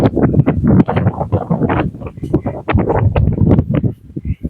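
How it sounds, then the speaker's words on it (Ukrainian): Gusty wind buffets the microphone with a loud, continuous low rumble that surges and dips throughout. "Тут аж вітер задуває."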